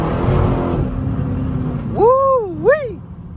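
A Dodge Demon's engine rumbles low, then revs sharply twice in rising and falling sweeps as the car slides, close and fairly loud, with someone talking over the opening.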